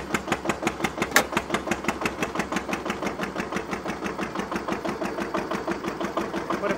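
A stationary engine chugs close by in a fast, even rhythm of regular thumping beats as its load is dropped, holding steady throughout.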